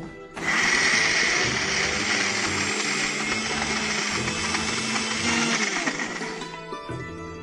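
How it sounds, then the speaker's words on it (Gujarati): An electric blender grinds ginger and garlic into paste, a loud, steady whirring motor drone that starts abruptly and runs for several seconds before winding down, with faint voices around it. "હવે આને ક્રશ કરીશું"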